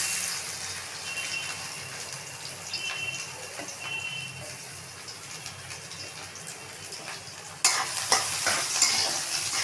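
Garlic cloves frying with cinnamon in a hot pan, a steady close sizzle with scraping stirs, rising louder toward the end with no talking.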